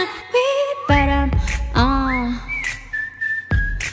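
A melodic whistled hook from a K-pop song, with pitch slides and sustained tones over a loud pop backing track with heavy bass, carried by a clear, prominent lead line.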